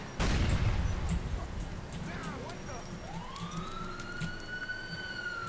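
A police patrol car siren wails in the video game GTA IV with the LCPDFR mod, a loud rising and falling electronic tone following a sharp burst, with gunfire-like pops in the background.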